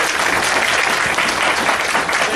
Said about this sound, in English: can we get a round of applause for our two guys?